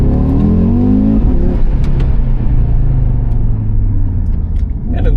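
A stock Audi RSQ3 Sportback accelerates hard, its engine a loud, close, rising drone of layered tones with a faint flutter from the intake, the note easing off near the end.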